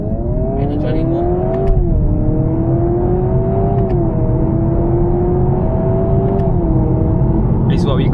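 A 2026 Honda Prelude with a CVT gearbox hums with a steady, synthesized engine note from inside the cabin, the pitch stepping and gliding slightly as if through gears, continuous and fairly loud.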